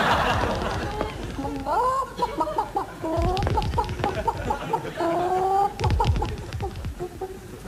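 Several chickens cluck and squawk in a close, busy chatter of rising and falling calls, with dense clucking bursts laid over a noisy background.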